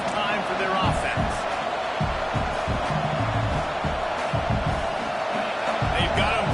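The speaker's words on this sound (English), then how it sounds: "They've got him pinned deep in their own end, and this crowd trying to help keep them there." Football stadium crowd noise in a video game, a continuous loud roar of fans with rhythmic thumps and cheering, heard under a commentator talking throughout.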